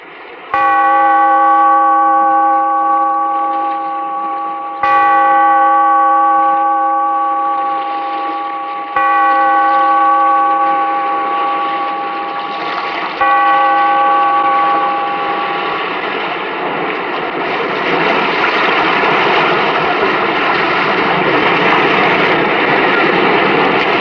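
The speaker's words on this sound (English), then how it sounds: "Bellkeeper, toll the bell, so that all may know we are gathered again in the weird circle." A large bell tolled slowly and loudly, four deep ringing strikes spaced a few seconds apart, each hum lingering and overlapping before fading into a swelling wash of sound.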